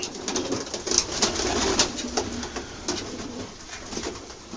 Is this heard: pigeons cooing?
yes